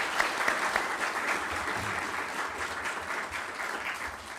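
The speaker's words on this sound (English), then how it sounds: "Please give Chairman Chu a round of applause." An audience gives a dense, sustained round of applause for a speaker at an event in Arkansas, loud and continuous throughout with no voices on top.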